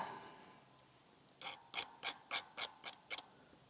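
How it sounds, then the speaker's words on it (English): A file rasps across a chainsaw tooth during a dead spruce felling job, giving seven short, evenly spaced scraping strokes close by after a quiet start. "this tooth has been taking some kind of beating, because it will resist my filing operation"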